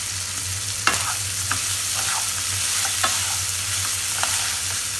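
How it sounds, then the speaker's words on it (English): Boiled rice being stirred into pulao in a frying pan, a close steady sizzle broken by repeated scraping strokes of the spoon, with a low constant hum underneath. "Mix it nicely."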